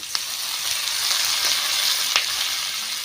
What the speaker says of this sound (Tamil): வெங்காயம் பூண்டு நல்லா வதங்கிருச்சு இது கூட வந்து தக்காளி பச்சை மிளகாய் இது ரெண்டையும் சேர்த்துக்கலாம்